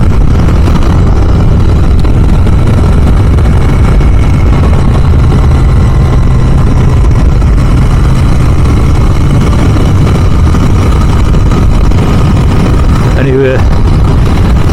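Royal Enfield Continental GT650 twin engine droning steadily and loudly while being ridden, a constant low rumble with wind noise throughout, briefly shifting near the end.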